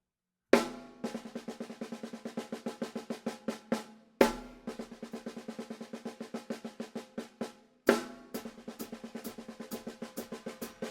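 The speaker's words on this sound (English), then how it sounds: "So just to play that on the snare drum" A snare drum plays a lick with triplets, quick repeated strokes, each phrase opening with a heavy accent, repeating three times, close and clear.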